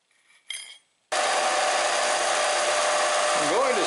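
A flatbed sander grinds a kitchen knife blade, rising abruptly from near silence into a loud, steady broadband whir that holds for several seconds, with a wavering tonal sweep near the end; brief faint handling noises come first.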